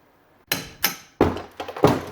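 A punch is hammered against a stuck pinion in the lower unit of a Johnson 5.5 HP outboard, giving four or five sharp metallic knocks at an uneven pace, the later blows closer together and heavier.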